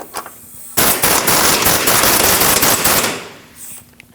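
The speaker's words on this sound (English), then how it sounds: "Tighten your nut" Pneumatic impact wrench tightening a castle nut on the front inner tie rod of a 2003-2008 Subaru Forester, a loud sustained rattling burst lasting about two and a half seconds, nearby and alone.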